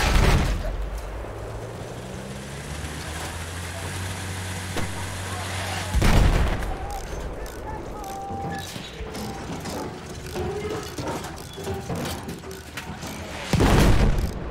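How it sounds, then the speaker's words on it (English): Mortar rounds in the video game Battlefield 1 land in three heavy, booming impacts spaced several seconds apart, with rattling, mechanical battlefield noise and faint voices filling the gaps between them. "He destroyed my mines with his mortar."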